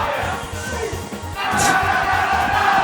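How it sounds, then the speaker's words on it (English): At an esports tournament losers final, the crowd's roar swells suddenly and grows louder and denser, with a commentator's voice over the noise. "The crowd is getting so loud"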